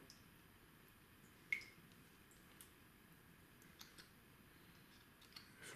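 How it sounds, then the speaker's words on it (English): Water drips off a rugged waterproof compact camera after underwater use, a few sparse, faint close-up drops and small squishy ticks at irregular intervals against near silence. "Dripping water."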